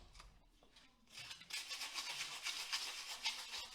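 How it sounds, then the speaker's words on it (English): Rapid scratchy scrubbing of 180 grit sandpaper on a metal LS engine oil pan, starting faint and choppy, then turning into steady close back-and-forth rasping with no talk. "What we're using to get this all cleaned up is just some 180 grit sandpaper."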